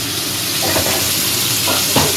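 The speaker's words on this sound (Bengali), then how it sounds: "মাছ ভাজা" Fish frying in hot oil, a loud, dense sizzle up close, with a couple of brief scraping sounds from a utensil.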